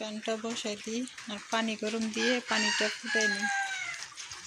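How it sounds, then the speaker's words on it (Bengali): A rooster crows partway through, rising then trailing off, while a person talks nearby over it, beside a kitchen stove. "কি মোরগ ডাকতেছে"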